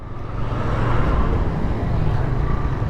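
A car is driven on a field by a learner at the wheel, giving a continuous, close engine and road rumble from inside the vehicle, with faint voices beneath it.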